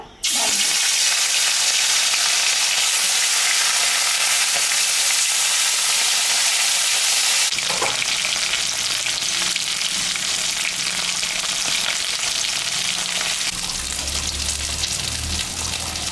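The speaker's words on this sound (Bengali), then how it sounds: "মাছটা ভাজা হয়ে গেছে" Snakehead fish fries in hot oil with salt and turmeric, giving a steady, loud sizzle that goes on unbroken and gets a little rougher about halfway through, with faint kitchen clatter and no talking.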